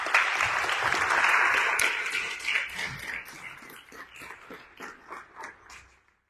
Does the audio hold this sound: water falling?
no